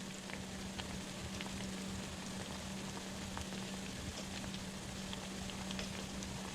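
Plantains frying in a pan give a steady, even crackling sizzle with a low hum underneath, heard alone throughout.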